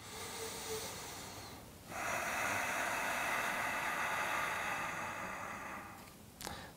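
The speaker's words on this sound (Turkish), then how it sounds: "Rahat nefes al." Slow, relaxed breathing during a yoga stretch, close and hissy: a soft breath, then a long steady exhale, ending with a quick sniff.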